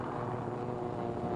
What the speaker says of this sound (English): Another B-25 to join the formation circling over the task force